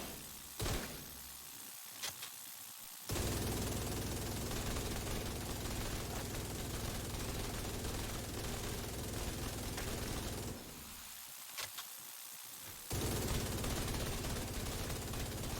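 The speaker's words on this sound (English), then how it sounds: "now we're gonna show the chatterbox with the minigun" Chatterbox minigun in The Division 2 roaring in two long sustained bursts of rapid fire, loud and close, separated by a brief pause with scattered small clicks.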